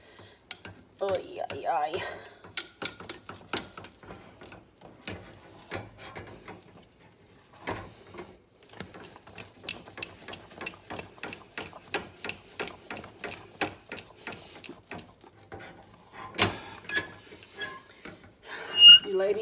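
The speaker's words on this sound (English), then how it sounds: "So I'm just gonna stir my little heart out here for a little bit" A spoon works through a thick peanut butter fudge mixture in a pot, scraping in steady, close, rhythmic strokes with brief pauses, while a voice mutters a few exclamations.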